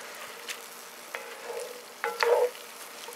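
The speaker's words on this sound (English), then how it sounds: "we're going to let these onions cook down a few minutes and sweat these guys" Onions sweating down for chili in a pot on a Weber kettle grill give a faint, steady sizzle with a few brief stirring scrapes and clinks.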